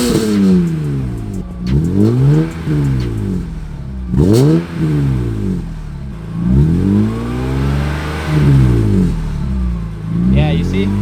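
A BMW E46 M3 on its stock exhaust revs repeatedly, each blip rising and falling in pitch with a raspy, buzzing edge, roughly five or six bursts close up and loud.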